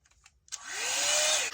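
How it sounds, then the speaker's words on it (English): Blow dryer attachment of an air styling kit switching on, a brief click and rising whine settling into a steady loud rushing airflow, close up with no talk. "This is just the blow dryer attachment, but what I love about this is that it uses air"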